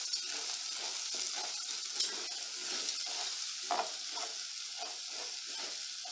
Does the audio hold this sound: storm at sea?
no